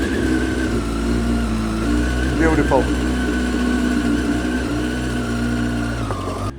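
A motorcycle engine with a loud aftermarket Micron exhaust idles in a steady, deep rumble close by, after about seven months unstarted, with a brief voice heard over it.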